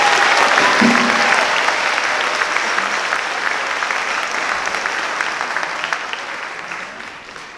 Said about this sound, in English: give all of these kids and Mrs. Fluck a huge round of applause